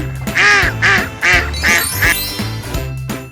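A duck quacks five times in a quick, steady series, loud and near, followed by a brief, softer call.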